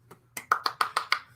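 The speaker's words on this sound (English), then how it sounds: "Golf clap." A golf clap: about six light, quick hand claps in an even rhythm, soft and close by, with no one talking.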